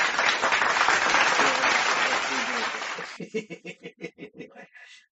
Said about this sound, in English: And if it works, I'll give you this applause.